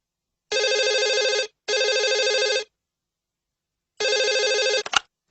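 A telephone rings for an incoming call in three even electronic bursts of about a second each, the third coming after a longer pause and ending in a click as it is picked up, clear and close with no talking.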